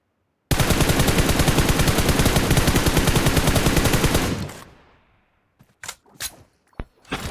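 Sustained automatic gunfire in the mobile shooter BGMI, a loud rapid unbroken burst lasting about four seconds, then fading, followed by a few scattered sharp shots.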